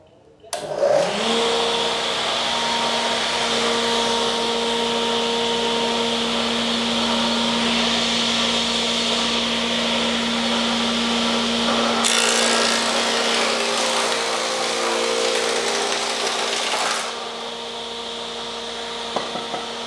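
An Oscar MQ443A jointer machine starts up and planes wood, its motor holding a steady high whine while the cutter adds louder rasping passes partway through before easing back to the idle hum.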